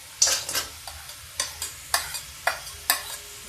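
Onion, peas, potato and soya chunks fry in spiced oil in a pan while being stirred, a regular rhythm of about eight scraping strokes over a constant close sizzle, with no talking.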